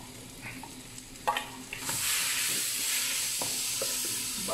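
Garlic and tomato sizzle in a hot pan while being stirred for a shrimp rice dish. A few scraping stirs come first, then a loud, steady frying hiss swells up and carries on.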